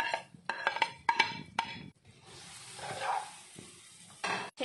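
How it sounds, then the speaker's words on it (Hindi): Chopped onions hitting melted butter in a pan, opening with several clinks and scrapes of a utensil against cookware, then a bright burst of sizzling that fades and returns as the onions are stirred. "अब हम इसमें अनियन अपने चॉप किए हुए ऐड कर लेंगे।"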